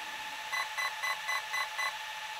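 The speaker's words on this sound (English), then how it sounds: "The motor will beep three times." Six short electronic beeps from a Hobbywing ESC and motor in a Traxxas X-Maxx RC truck, in a steady, evenly spaced sequence, clear and close over a faint background hiss.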